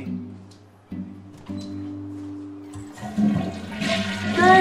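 Toilet flushing: quiet hum and small noises at first, then a rising rush and gurgle of water that swells louder toward the end, with some voice sounds mixed in.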